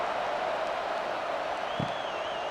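Steady roar of a stadium crowd in the video game College Football 26 after a touchdown drive, a constant broad wash of cheering noise at even loudness with a brief louder burst near the end.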